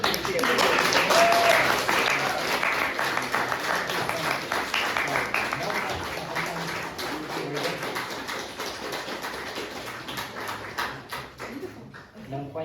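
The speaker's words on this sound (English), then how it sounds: "I can just give a round of applause" Audience applause at a fan meeting with figure skater Deniss Vasiljevs at the 2026 World Figure Skating Championships, loud at first and slowly thinning, with scattered voices over the clapping before it trails off.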